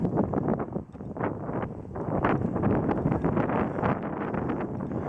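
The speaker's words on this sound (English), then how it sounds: "And it sure is windy as well." Strong wind blowing outdoors by a castle at night, loud gusty rumble buffeting the microphone in continuous surges.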